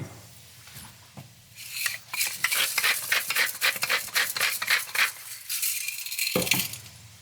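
Chopped fennel, shallots and celery stirred in melted butter in a pot, with close rattling, scraping strokes of a spoon over a soft sizzle in quick uneven bursts.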